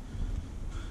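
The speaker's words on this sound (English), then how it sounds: "Bloody windy, you think?" Strong, gusty wind during an Australian bushfire, roaring and buffeting the microphone with heavy low rumble throughout, with no speech.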